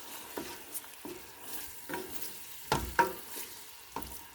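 Chopped tomato cooks in a pan with masala under a faint, low sizzle, broken by soft scraping stirs that come every second or so.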